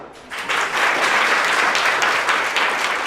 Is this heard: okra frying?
no